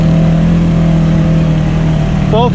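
A Polaris RZR S 1000 side-by-side on a trail, its engine droning loud and steady at close range, then briefly revving up at the very end.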